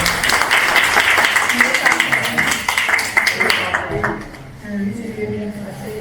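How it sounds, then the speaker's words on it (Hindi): Audience clapping at a retirement farewell for a chief pharmacist, dense rhythmic applause for about four seconds, then fading out as a voice speaks over the dwindling claps. "भाई जोरदार ताली बजना चाहिए।"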